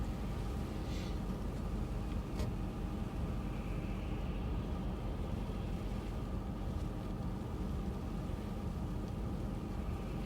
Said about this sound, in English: Dang, that truck's going fast.